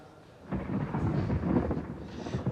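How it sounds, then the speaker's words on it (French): A deep thunder rumble rolls in from a storm and swells over a couple of seconds, with rain hissing underneath, loud and sustained. "C'est l'orage."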